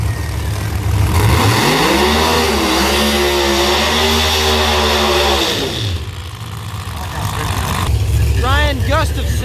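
A pro mod drag race car roars through a pass, its loud engine note climbing steadily and holding high before cutting off, then fading as the sound of another engine rises afterward.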